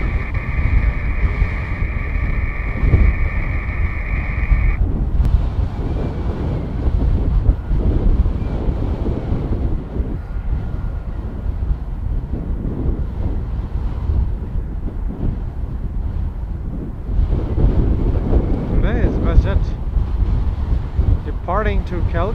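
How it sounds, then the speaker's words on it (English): Steady wind buffets the microphone outdoors at Edmonton International Airport during plane spotting, a continuous loud low rumble that carries through the whole clip with brief tonal sounds near the start. "I'm glad that I know the wind is there"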